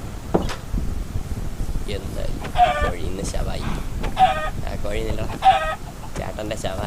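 A chicken in the Minecraft video game gives several short, clipped clucks at a steady spacing while a person talks over it.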